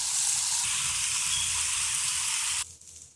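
Potatoes for home fries sizzle loudly and steadily in a pan as they are stirred and mixed, the hiss running strong before dropping off abruptly near the end.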